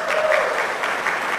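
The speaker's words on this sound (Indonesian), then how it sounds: "Tepuk tangan dulu." A church congregation gathered for a men's fellowship service in Kuala Kapuas claps together in a short burst of dense, fairly loud applause lasting just over a second.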